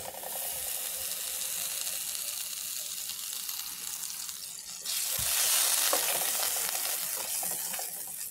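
Butter sizzles in a hot frying pan while a red spaghetti sauce with cream cheese and sausages is being cooked, a steady close crackle that grows louder halfway through amid stirring, with no talking.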